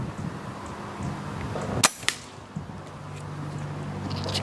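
A Benjamin Trail NP2 nitro piston air rifle fires one sharp crack, followed moments later by a fainter thwack, in quiet outdoor surroundings.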